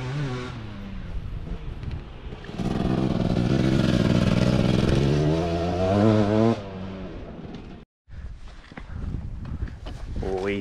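A motorcycle engine on a dusty Dakar rally track swells into a loud, sustained revving roar that climbs and falls in pitch, then drops after a brief cutout, with voices talking over the rough engine noise.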